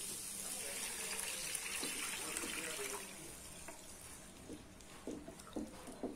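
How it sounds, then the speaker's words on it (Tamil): Water pours steadily into a cooking pan with semolina for a few seconds, then tapers off into light clinks and handling noises, fairly quiet. "தண்ணி ஊத்திட்டு"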